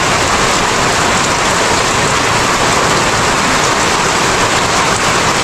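Steady, loud rain pours without a break, a dense wash of falling drops on surfaces in the rainy season, with no voices.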